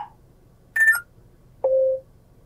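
Notification chimes from the infotainment system of a 2024 Lincoln Nautilus play as short electronic tones: a brief low blip, a higher sustained beep, then a lower steady tone, clean and isolated with no voices.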